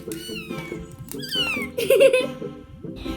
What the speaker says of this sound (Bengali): সুন্দর বিড়াল